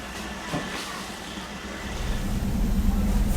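A train on the railway line to Mae Klong rumbles steadily from inside, its low running noise growing louder and heavier toward the end.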